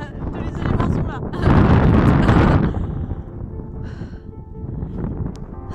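Wind gusting across a foggy, rainy mountainside, a rough buffeting roar against the microphone that swells in the middle and then settles to a steadier rush, with someone speaking through it.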